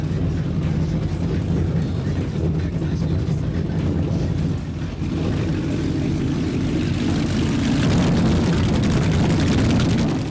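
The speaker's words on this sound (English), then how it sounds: "Listen to these Mercury Racing 860s." Powerful Mercury Racing 860 boat engines roar loudly and continuously at a Miami poker run, a dense, throbbing rumble that swells slightly toward the end, with no voices.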